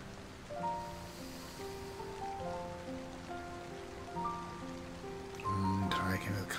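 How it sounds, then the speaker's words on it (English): Rain falling in the video game Tamagotchi Adventure Kingdom, a soft steady patter under light game music notes, with a brighter burst of sound near the end. "Oh, it's raining."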